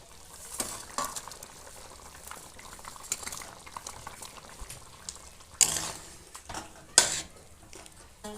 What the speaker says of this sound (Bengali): এবার ভেজে রাখা মাছগুলো আমি দিয়ে দেব।